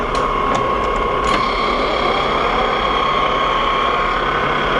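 A metal lathe runs steadily while turning a poured babbitt bearing for a J. A. Vance planer/matcher, giving a loud, continuous mechanical whir with a few faint ticks early on.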